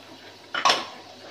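A utensil scrapes and clinks against a pan while stirring masala bhindi, two quick close metallic knocks in the middle of an otherwise quiet moment, with no voices.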